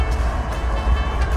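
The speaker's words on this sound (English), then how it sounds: "Still trains coming through here, but not stopping to pick up passengers, apparently." A train rolls past the historic Kelso Depot, a loud, steady low rumble with wheel noise sustained from start to finish and no talking.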